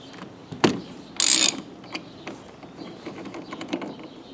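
A ratchet wrench working a 21mm nut off a steering wheel, giving short clicking mechanical bursts with one louder metallic rattle, quiet and close with no talking.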